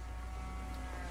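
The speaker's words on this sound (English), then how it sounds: "the cows are blocking the way" A low, drawn-out cow moo from the video game Resident Evil 4, a single steady lowing sound under a rumbling background.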